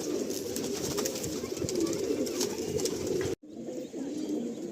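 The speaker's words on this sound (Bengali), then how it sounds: "আর এই হলো শ্যামদার লফট, বিশাল লফট।" Many pigeons in a large loft giving low, overlapping cooing with wing flutters and scattered sharp clicks, heard close and continuous before a brief cut.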